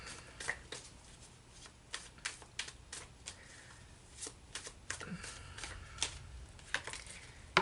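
Tarot cards are moved and handled on a table, producing soft, scattered slaps and shuffling flicks at an irregular pace, fairly quiet and close.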